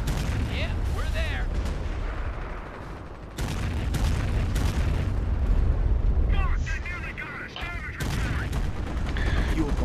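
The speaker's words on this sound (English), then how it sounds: "One fucking artillery strike." Artillery strike in Company of Heroes: repeated heavy explosions and rumbling booms in a continuous barrage over dense battle noise, with two players talking over it.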